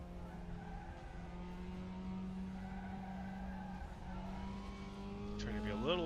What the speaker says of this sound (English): That was probably a little too much tire squeal.